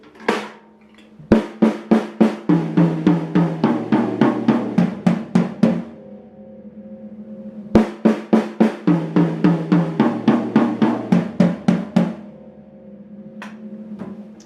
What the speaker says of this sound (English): 4 on the high tom, 4 on the mid tom, and then 4 on the floor tom